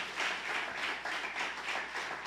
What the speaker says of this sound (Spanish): Da un aplauso fuerte